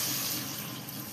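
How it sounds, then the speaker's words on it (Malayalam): Two cups of water poured into a fish peera masala cooking in the pan, a steady, close splashing gush that runs the whole moment without any talk. "ഇനി ഇതിലേക്ക് നമുക്ക് 2 കപ്പ് വെള്ളം കൂടെ ആഡ് ചെയ്ത് കൊടുക്കാം."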